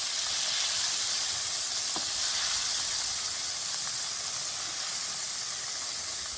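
Gator tail deep frying in grease over a campfire gives a loud, steady sizzle and hiss that runs unbroken the whole time, with no talking.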